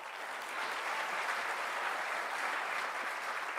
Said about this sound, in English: One more round of applause, ladies and gentlemen, for that inspiring, enlightening, challenging, beautiful speech on breaking boundaries.